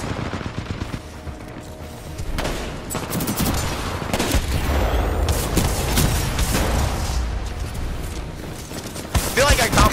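Gunfire from Titanfall 2 rattles in dense, loud bursts over a rumbling battle, with booming blasts near the end and a voice talking over it.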